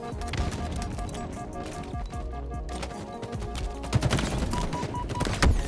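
Bursts of automatic gunfire in Halo Infinite ranked multiplayer crackle as teammates lay down support fire, mixed with footsteps and game music, with louder, sharper shots punching through toward the end.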